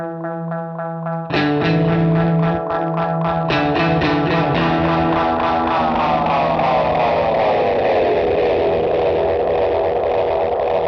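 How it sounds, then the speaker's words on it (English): A Recovery Effects analog delay pedal, Endless Summer or Moonstruck with real spring reverb, driven into feedback oscillation: loud, dense distorted tones that repeat and smear, with the pitch sliding downward as the delay time changes, running continuously without a break. "play with the feedback and delay time, changing pitch and sending feedback into oscillation"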